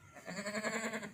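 A long-eared pure Gulabi goat bleats at a livestock market, giving one wavering, pulsing cry that lasts about a second, close and fairly loud, with no talking over it.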